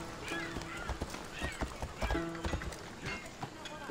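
Rapid hoofbeats of a galloping horse in the video game Assassin's Creed Odyssey thud steadily beneath busy background sound and voices, close and fairly loud.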